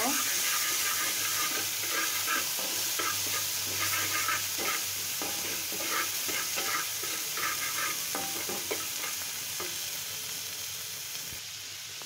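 Ginger, garlic and onion paste frying in mustard oil, a steady close sizzle broken by repeated scraping and stirring from a spoon, with a faint voice now and then.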